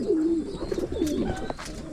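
Pigeons coo close by in soft, low, warbling calls that repeat through the clip, with faint rustles and background noise around them.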